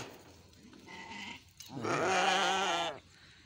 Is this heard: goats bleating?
yes